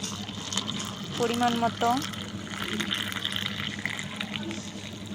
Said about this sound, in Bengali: এখন গরম জল দিয়ে দিলাম